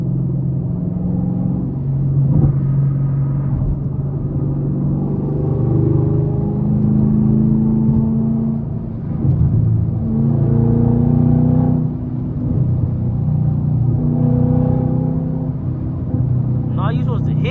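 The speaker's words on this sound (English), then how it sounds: "Car gonna be too loud." A Chevrolet Camaro SS engine rumbles low and steady during a late-night downtown drive, swelling and easing in long waves, with people talking over it for much of the time.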